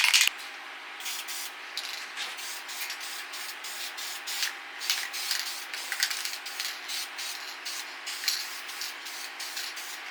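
Colorite Tahitian Red spray paint hisses onto a 1978 Honda XR75 motorcycle frame in a series of short, close aerosol bursts repeated throughout.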